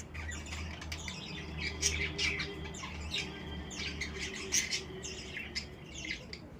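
Lovebirds squawk and chirp in repeated sharp bursts, fairly close, over a steady low hum.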